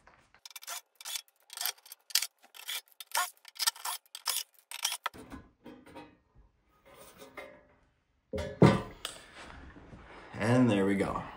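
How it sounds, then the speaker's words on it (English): Screws are taken out of the back panel of a broken stove top, making a run of short scraping, ratcheting clicks in an uneven rhythm up close, followed by quieter handling sounds and a voice near the end. "We'll have to remove these screws so we can take this whole bottom part off."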